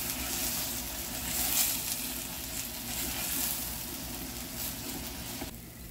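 Loud, steady sizzling of rice frying in a pan, with scraping stir sounds throughout before it briefly drops off near the end.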